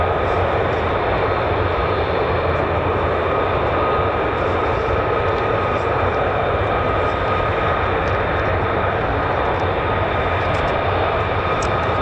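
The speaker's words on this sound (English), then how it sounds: "So more F-35s taxiing out as well." F-35 fighter jets taxiing at RAF Lakenheath, a loud continuous engine roar with a steady whine on top, close and unvarying throughout with no pauses.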